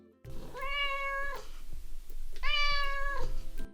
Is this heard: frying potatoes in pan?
no